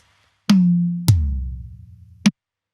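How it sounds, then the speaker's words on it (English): Three tom hits ring out in a short fill: a higher rack tom stroke, then a deep, booming floor tom with a long decay, closed by another rack hit. "So with this fill, you'll first hear the rack and then the floor."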